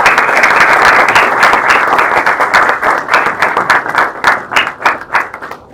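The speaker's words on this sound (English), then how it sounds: "May I please have a round of applause?" Audience applause welcoming a speaker at a university talk, a loud, dense burst of clapping that thins out toward the end into scattered individual claps.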